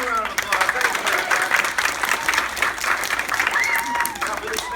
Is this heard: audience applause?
yes